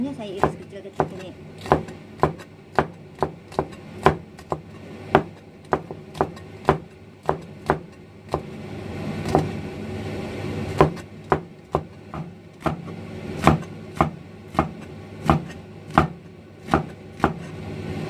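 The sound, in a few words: slicing green beans into small pieces with knife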